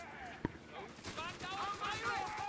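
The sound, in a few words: gunfire from a tank gun in the video game Company of Heroes 3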